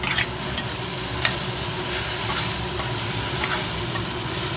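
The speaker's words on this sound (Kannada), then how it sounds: "ಅರ್ಶಿನ ಪುಡಿ ಹಾಕಿ ಚೆನ್ನಾಗಿ ಮಿಕ್ಸ್ ಮಾಡಬೇಕು" Sliced okra with turmeric powder stirred in a pan over low gas, a dense continuous sizzle with regular spoon scrapes and clinks close by, and no voices.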